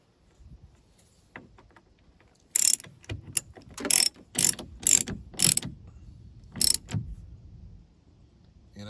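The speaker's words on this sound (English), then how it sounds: "I'm just gonna use common sense to tighten it down as much as I can" A ratchet clicks in bursts as a T45 nut is tightened on the loose side mirror of a 2014 Volkswagen Tiguan MK1: sharp close ratcheting strokes with short pauses between them in a quiet space.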